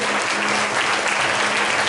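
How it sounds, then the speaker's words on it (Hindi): A church congregation claps loudly and continuously for Jesus at a worship gathering, a dense, close wash of many hands with no break. "एक बार यीशु के लिए जोरदार ताली बजाएंगे"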